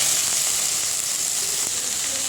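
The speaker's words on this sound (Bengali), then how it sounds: "এই সোয়াবিনগুলো দিয়ে একটুখানি ভাজা করে নেব" Soybean chunks fry in hot oil in a kadai, giving a steady, close, dense sizzle throughout with no talking.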